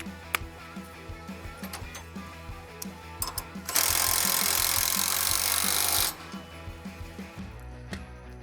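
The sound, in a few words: tightening a bolt back down on a Polaris Xpedition suspension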